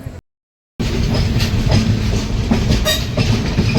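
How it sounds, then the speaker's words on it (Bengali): A train leaving Khurda Road station on the Visakhapatnam–Bhubaneswar Intercity Express: after a brief gap, a loud steady rumble with rhythmic clickety-clack of wheels over rail joints, heard close from inside the carriage. "বেশ কিছুক্ষণ দাঁড়িয়ে থাকার পর অবশেষে খুর্দা রোড থেকে ট্রেন ছাড়লো।"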